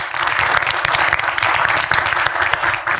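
Dense, steady applause from an audience fills the room at a film industry discussion, loud and continuous with no voices rising above it.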